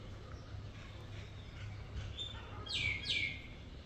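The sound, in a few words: birds chirping in Balkh, Afghanistan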